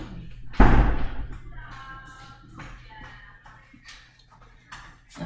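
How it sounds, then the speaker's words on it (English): A door bangs shut with a sharp, close thud, followed by shuffling and faint creaks while voices murmur in the background. "we're gonna close this door."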